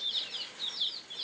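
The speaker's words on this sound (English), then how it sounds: "it's time to feed these hungry little chicks." Hungry young chicks peep in a steady string of high, thin chirps at feeding time, close and moderately loud, with no talk.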